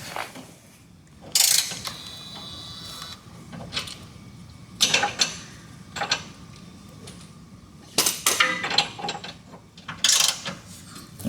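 Ratchet clicks in repeated bursts as bolts are tightened on a car's IRS subframe support, close and loud with pauses between each run of rapid pawl clicking.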